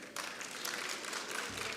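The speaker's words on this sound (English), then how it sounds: "I don't know what there is to clap about" Audience applause at a literary festival closing ceremony, a steady broadband wash of many hands clapping that swells after a brief quiet start and continues evenly throughout.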